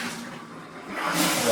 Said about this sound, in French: Je vais essayer d'ouvrir le pommeau de douche.